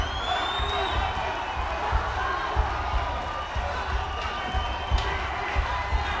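Boxing arena crowd cheering during a heavyweight bout, a steady roar of voices with scattered whoops and shouts and occasional thuds, loud and continuous throughout.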